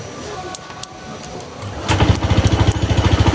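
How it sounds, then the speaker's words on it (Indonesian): A Honda PCX 160 ABS scooter engine starts after a quiet moment and settles into a steady, pulsing idle, close and fairly loud, with no talk. "Ini motor bisa hidup normal ya kawan, hidup normal, tidak ada kendala, tidak merebet"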